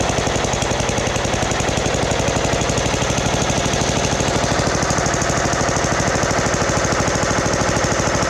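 A vintage John Deere STX30 riding mower engine idles with a loud, rapid and steady putter that runs unbroken throughout, with no talking.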